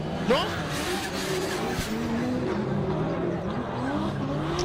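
BMW 1 Series drift cars skidding on a track during a Pure Drift competition: engines roar steadily with tires squealing and sliding, close and loud, while a commentator talks over the action.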